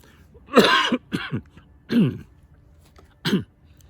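Four short, close coughs and throat-clearing bursts with brief pauses between them, no talking.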